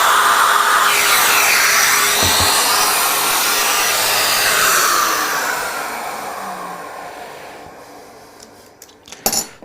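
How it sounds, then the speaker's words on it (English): Woodworking router cutting on a Peanut mini jig with a dust extractor running, a loud, steady high whine and roar that fades over several seconds as the machines spin down, ending with a few clattering knocks. "Start the router, extractor, we go down, along"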